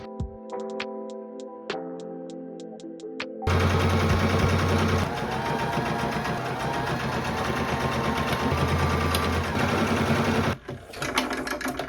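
A sewing machine straight-stitches a gingham top, first a few sharp ticks and clicks, then a loud steady mechanical whirr running for several seconds before cutting off, with brief ticks after.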